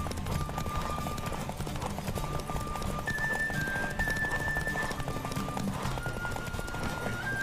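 A horse galloping in The Witcher 3: Wild Hunt, with steady rhythmic hoofbeats pounding throughout at a constant pace, joined by sustained tonal game music lines above them.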